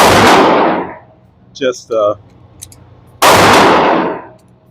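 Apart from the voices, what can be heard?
RIA 22 TCM pistol gunfire at a shooting range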